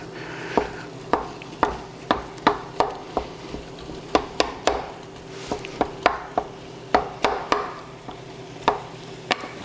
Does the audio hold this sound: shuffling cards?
no